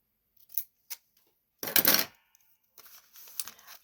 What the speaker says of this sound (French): je voulais mettre un morceau de dentelle comme ceci. Hop, on va découper un bout.